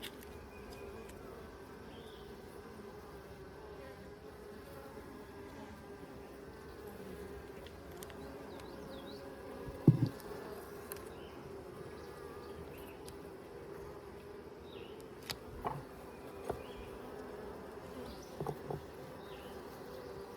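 Honey bees drone in a continuous low buzz around an open Layens hive during an inspection, steady and close for the whole stretch, with a few soft knocks and clicks from handling the frames.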